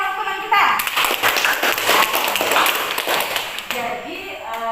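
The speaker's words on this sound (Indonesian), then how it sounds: "Tepuk tangan untuk teman kita." A classroom claps for a classmate in a short, lively burst of hands that starts abruptly after a voice and dies away within a few seconds, with speech heard before and after.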